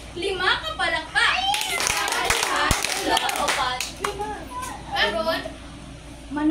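Children in a classroom clap in unison during a lesson, a short burst of group claps mixed with kids' voices and a teacher talking around it.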